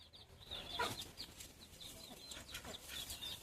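A few chickens cluck softly among high, thin peeping from chicks, faint and somewhat distant. The peeps come in scattered, irregular bursts over a low background murmur, with no talk.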